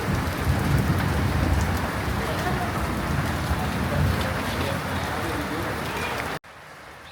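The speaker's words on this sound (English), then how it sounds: "The rain has subsided a bit." Heavy rain pouring during a thunderstorm in Bangladesh, a steady dense hiss with low rumbling underneath, running loud for several seconds before cutting off abruptly near the end.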